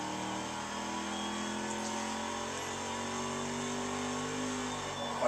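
A car cruising along a scenic Hawaiian road in the racing game Test Drive Unlimited 2, its engine a steady, loud mid-pitched drone with rising tones as it accelerates, continuous throughout.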